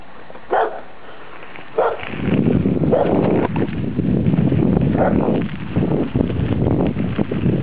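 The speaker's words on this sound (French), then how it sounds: "chien." A dog barks outdoors during a mountain bike ride in the Landes, with a couple of sharp loud barks early on followed by a run of rougher barks and wind buffeting the microphone.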